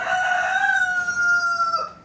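A rooster crows close by in one long, steady cock-a-doodle-doo that trails off at the end.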